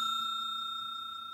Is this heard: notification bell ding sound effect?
yes